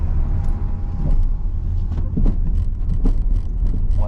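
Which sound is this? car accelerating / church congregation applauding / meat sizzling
car accelerating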